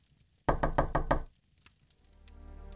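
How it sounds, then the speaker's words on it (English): Within a Wheel of Time video game, several loud, evenly spaced knocks hit a door nearby in a quick burst, followed by a single fainter knock and then a low rising ambient drone. "Can you answer the door, Kieran?"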